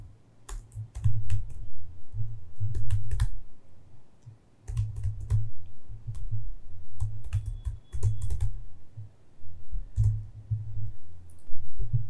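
Code typed on a computer keyboard, rapid clattering keystrokes in bursts with short pauses, close-miked with a thumpy low resonance and no talking.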